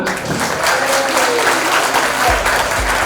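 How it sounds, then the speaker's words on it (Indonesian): An audience claps for Luna at a soft-skills training session on communication and confidence, a steady wash of applause filling the room throughout, with faint voices murmuring beneath. "Tepuk tangan dong buat Luna."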